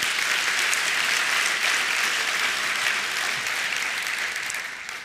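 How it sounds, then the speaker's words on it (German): An audience at a talk applauds the translators, a dense, even sheet of clapping filling the room that holds steady and then slowly fades toward the end. "Applaus für die Übersetzer will ich auf keinen Fall unterbinden."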